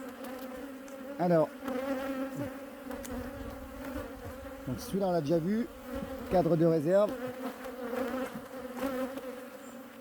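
Honey bees buzz steadily around an opened hive during a winter inspection, a close, continuous drone with a few louder passes near the ear while someone talks over it.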